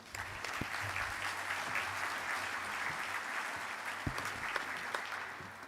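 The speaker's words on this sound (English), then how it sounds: "Please give a round of applause for Mr. Martin." An audience at an industry forecast event applauds steadily, a dense, even patter of clapping from a room, moderately faint and without speech.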